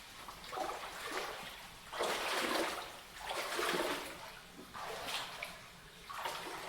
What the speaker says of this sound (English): this hole in the ground where some water disappears